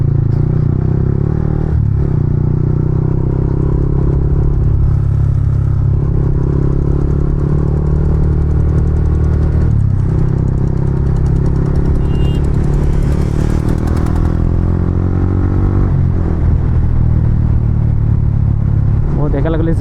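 A motorcycle cruising along a highway on a Sunday ride, its engine droning loud and steady with wind rushing throughout and a brief clatter partway through.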